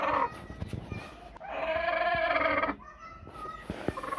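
A chicken calls out in a sustained, strained cackle lasting about a second, close by, with scattered rustling and light noise around it during light rain.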